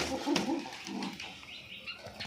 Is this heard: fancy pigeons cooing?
yes